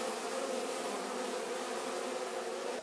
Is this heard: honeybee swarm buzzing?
yes